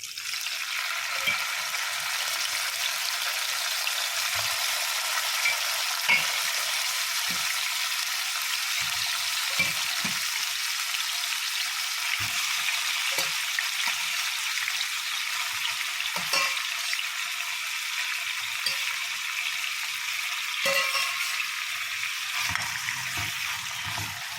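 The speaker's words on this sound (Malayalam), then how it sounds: "ബാക്കിയുള്ള മീൻ കൂടി നമുക്ക് ഇതുപോലെ ഫ്രൈ ആക്കിയെടുക്കാം" Pieces of tuna fry in oil for a pickle, sending out a dense, even sizzling hiss throughout. Scattered low pops and soft knocks of the pan or spatula sound up close, with no talking.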